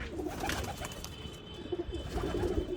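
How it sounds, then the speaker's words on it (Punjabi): Pigeons coo softly and repeatedly at close range against a quiet background hum. "ਲੋ ਬਈ ਚਲ ਗਏ ਕਬੂਤਰ ਆਪਣੇ ਸਾਰੇ ਅੰਦਰ ਆ ਗਏ ਜਿਹੜੇ ਉੜੇ ਸੀ"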